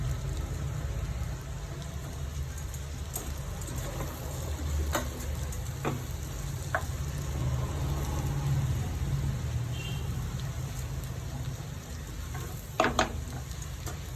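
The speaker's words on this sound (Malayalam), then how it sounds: "കുറച്ച് കറിവേപ്പില ഇട്ട് കൊടുക്കാം കുറച്ച് വെളിച്ചെണ്ണയും കൂടെ ഒഴിച്ചു കൊടുക്കാം നന്നായിട്ട് ഇളക്കി യോജിപ്പിക്കാം" Curry leaves and coconut oil crackle softly in a frying pan with vegetables being stirred, a low steady sizzle with a few light clicks of a spoon against the pan.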